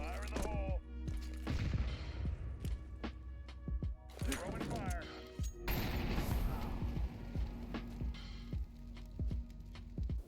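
A molotov is jump-thrown in Counter-Strike 2 on the Vertigo map, with glass crashes, thuds and bursts of gunfire-like impacts scattered through the clip, while someone talks over the game sounds.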